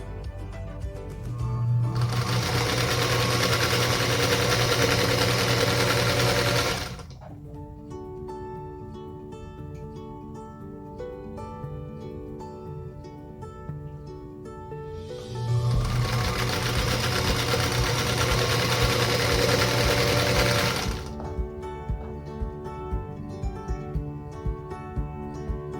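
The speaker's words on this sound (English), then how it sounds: "Now we're going to continue that same process, stitching onto the next, making a total of 4 of these units." Sewing machine chain piecing large star quilt blocks, two long steady runs of close, loud stitching separated by a quieter pause with faint handling.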